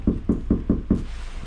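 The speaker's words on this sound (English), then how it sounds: "Knock on that door." A door is rapped five times in an even, steady rhythm during a food delivery drop-off, loud and close, followed by a brief tail of room sound.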